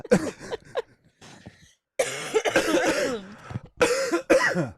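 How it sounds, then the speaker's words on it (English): Several harsh coughs come in bursts, close and loud, with short pauses between them. "We're going to just cough the rest of the night now."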